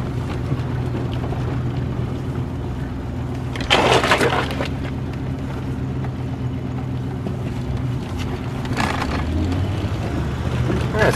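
A 1978 Ford LTD, cold and low on fuel, runs steadily with a low, continuous engine drone, with two brief louder rushes partway through and no talking.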